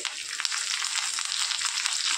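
Curry leaves hit hot oil with cumin in a kadhai and give a loud, dense, crackling sizzle that stays steady and close for the whole moment.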